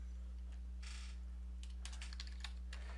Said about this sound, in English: So if I just want to type in a couple of little names, Philip, I could type in Joseph, Laura.